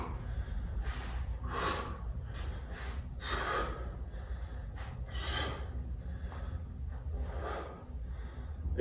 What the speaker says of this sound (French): J'expire et j'inspire.